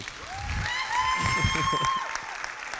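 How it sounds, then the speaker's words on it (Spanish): An audience at a talk on cryptocurrency and blockchain welcomes a speaker with applause, soft steady clapping under a bright sustained tonal swell, with low murmuring voices in the room. "les pido por favor que recibamos con un fuerte aplauso a Jaime Sandoval"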